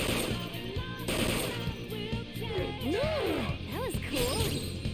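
Rapid video-game gunfire crackles in quick bursts, mixed with crashes and swooshing effects and a busy game soundtrack. A person talks over the game noise.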